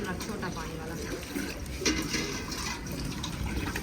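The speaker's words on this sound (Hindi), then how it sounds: "तो थोड़ा सा पानी भी ऐड करना है" Water is poured into a batch of sharbat, a continuous splashing, filling trickle that sounds close and runs unbroken throughout, with people talking over it.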